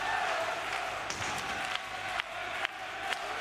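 An ice hockey arena crowd at a Skellefteå vs JYP game keeps up a steady wash of cheering and clapping, with a few sharp knocks breaking through the roar.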